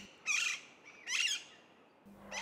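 Alexandrine parakeet giving two loud, harsh squawking calls, close by and evenly spaced about a second apart, with a third call just starting at the end over a quiet background.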